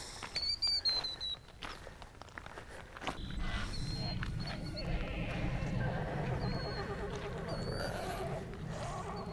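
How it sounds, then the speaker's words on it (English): An unhappy horse neighs and whinnies near a river, loud shrill calls at the start, followed by a steady rushing background with faint hoof-like knocks and occasional high squeals. "The horse is not happy."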